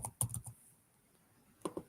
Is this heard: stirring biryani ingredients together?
no